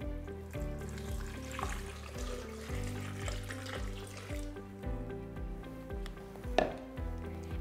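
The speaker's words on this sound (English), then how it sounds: "And finally, I'm adding in 2 cups of boiled hot water." Hot boiled water runs and splashes steadily into a soup pot with spiced carrots for several seconds, with a few clinks of metal and a sharper knock near the end.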